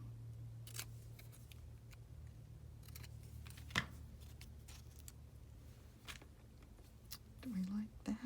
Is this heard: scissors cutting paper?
yes